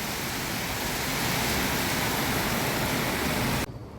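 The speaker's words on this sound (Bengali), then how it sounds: "আজকে খুবই জোর বৃষ্টি হচ্ছে" Heavy rain pours down in a steady, dense broadband roar, loud and unbroken for several seconds before cutting off abruptly near the end.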